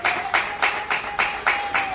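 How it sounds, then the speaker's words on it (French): Audience applause at a wedding celebration, rhythmic clapping in steady waves with about seven strong pulses roughly every quarter second, close and fairly loud, with a faint steady tone running underneath. "Sous les applaudissements du public, s'il vous plaît."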